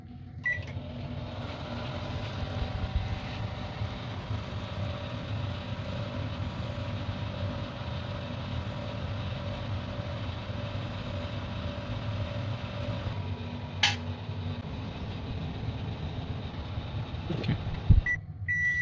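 A steady low electrical hum of a microwave oven running continuously while heating a glass of cold water, with a faint click and a short beep near the end.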